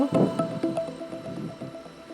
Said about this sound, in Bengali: 3 কাপের মতো দুধ, একটা পাত্রে ঢেলে নেব